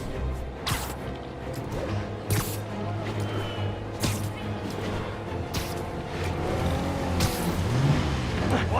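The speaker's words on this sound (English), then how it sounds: "Now I just have to stop that car." A car engine drones and revs in a Spider-Man video game, with a continuous motor hum and repeated sharp swishing bursts as the vehicle speeds along.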